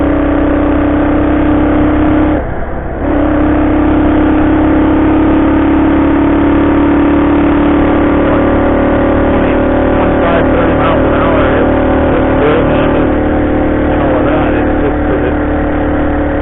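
A Honda CT90 motorcycle engine runs steadily and smoothly at a low, even idle throughout, with a brief dip near the start and a constant hum that stays close and loud.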